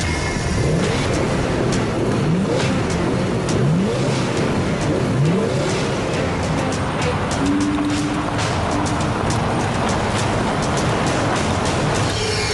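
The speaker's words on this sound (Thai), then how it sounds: "ผมจะใช้รถคันนี้ ลองขับชนปั๊มน้ำมัน" A car engine revs and runs steadily before being driven into a gas station fuel pump, loud and close with rising and falling revs under a constant rumbling drone.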